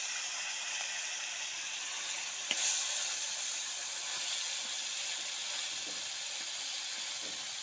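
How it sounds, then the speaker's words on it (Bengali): Fish frying in hot oil in a wok gives a steady, even sizzle and hiss throughout, with one brief sharp crackle partway through. "কড়াই তেল গরম হয়ে গেছে, এবার একে একে মাছগুলো ভেজে নেব।"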